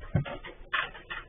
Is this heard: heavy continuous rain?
no